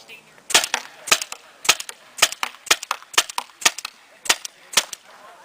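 Tippmann TPX paintball pistol running on a 12-gram CO2 cartridge, firing about a dozen sharp, close shots in a quick, fairly even rhythm with brief gaps between pairs.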